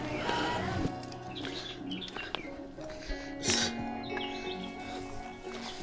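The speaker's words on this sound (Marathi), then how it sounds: "मस्त पक्ष्यांचा आवाज एन्जॉय करत करत आपण चाललो आहे" Birds chirping and calling along a trail up Sarasgad fort, scattered bright tweets over soft background noise, with faint movement sounds.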